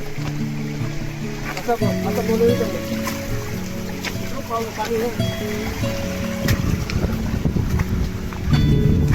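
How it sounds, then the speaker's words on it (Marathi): Strong wind buffets the microphone steadily throughout at a waterfall in Tahuli near Ambernath, with people talking underneath and a low rumble of moving water. "हवा पण सुटले भरपूर एकदम."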